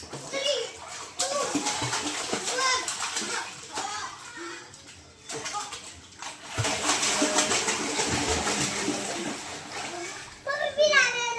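Children shout and play while splashing in a half-filled backyard water tank during Holi, with a steady wash of churning water, bursts of excited kid voices and squeals throughout, and a brief lull midway before the splashing and chatter pick up again.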